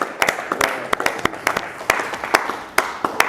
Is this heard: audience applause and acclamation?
yes